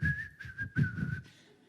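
A person whistles a short, steady tune of a few connected notes, close and clear against a quiet background.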